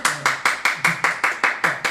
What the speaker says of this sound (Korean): 박수로 한번 맞이해 주십시오